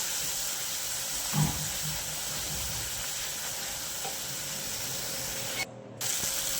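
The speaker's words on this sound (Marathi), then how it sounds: "थोडंसं पाणी टाकून हे वाटण मी चांगलं फ्राय करून घेणार आहे" Ground spice paste frying in hot oil with a splash of water in a pan, a steady loud hiss and sizzle throughout, with a brief clatter of stirring and a short break near the end.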